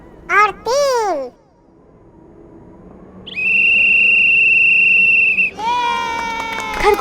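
A cartoon monkey blows a whistle to start a race in an animated tortoise-and-hare story: one steady, shrill blast lasting about two seconds. Brief cartoon vocal sounds come just before it and right after.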